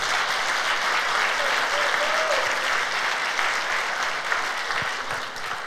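A church congregation at a Sunday service bursts into sustained, dense applause, a steady wash of many hands clapping at even loudness for several seconds.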